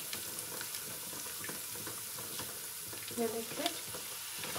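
Ground tomato puree sizzling in a hot pan with oil, cardamom and spices while cooking mutton kofta curry; a steady, moderately loud hiss of frying runs throughout, with a brief spoken remark near the end.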